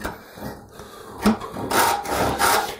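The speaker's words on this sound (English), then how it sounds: "slowly then lower the heel on the saw and bring it all the way down back across that line until I get a kerf running all the way across" A hand saw cuts a kerf across a line in wood for side table stretchers, giving rough rasping back-and-forth strokes that grow louder and steadier toward the end, heard close up with no talking.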